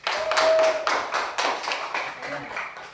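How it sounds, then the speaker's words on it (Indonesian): A classroom audience applauds after a student presentation, a short burst of clapping that swells and then thins out over about three seconds, close and fairly loud. "Beri aplaus."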